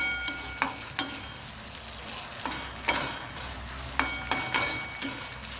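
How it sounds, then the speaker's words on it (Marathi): Green chillies fry in a pan for sabudana khichdi, a low close sizzle broken by repeated scraping stirs that come in irregular strokes, with no voices. "तर मिरच्याच्या थोड्या फ्राय होऊ द्यायच्या"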